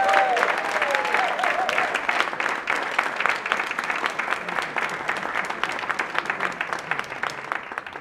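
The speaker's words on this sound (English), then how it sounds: "please give a round of applause to my mother, Cris Meadows." Dense, sustained applause fills a gala hall, steady and loud throughout, with a few cheers rising over the clapping crowd.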